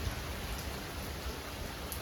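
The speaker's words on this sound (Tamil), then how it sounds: "என்ன நல்ல திடீர் மழை." Sudden rain falling outdoors, a soft continuous hiss of drops spread evenly throughout, fairly faint, with no voices.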